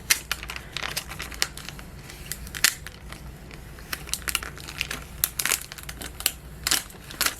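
Vinyl sheet peeling away from its backing during a craft project, a steady run of crackling, crinkling tears with sharper bursts scattered throughout, close and fairly quiet, with no talking.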